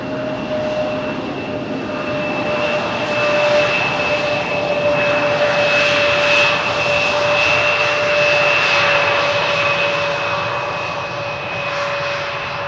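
An aircraft arriving on runway 18R at Amsterdam Schiphol roars past with a loud, sustained engine rumble and a steady high whine, swelling and easing slightly across its length with no voices.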